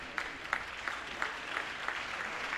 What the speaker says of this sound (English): Round of applause you can probably hear as they come on the tatami